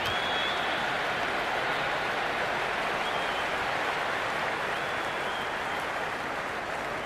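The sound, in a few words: cricket stadium crowd cheering and applauding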